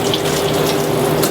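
Shower water runs inside a Winnebago Revel camper van, a close, loud, steady hiss of spray lasting only a moment.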